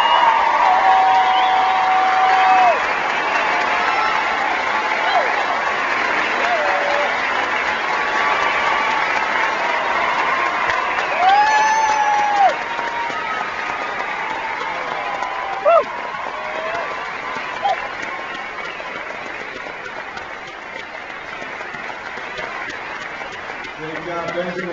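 At the California College of Arts and Crafts 2008 graduation ceremony, a large audience gives the undergraduate class sustained applause with cheers and whoops rising over it, then slowly quiets toward the end.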